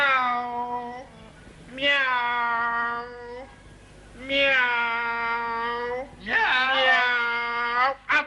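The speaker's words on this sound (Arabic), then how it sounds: "مياو مياو" Three long, drawn-out meows in a row, each a wavering, whiny cry with short pauses between, close and fairly loud.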